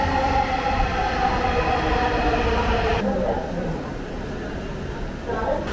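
A metro train at Agargaon metro station in Dhaka, heard as a steady close rumble of rolling stock with a shift in tone partway through and a brief squeal near the end, under a continuous background of voices.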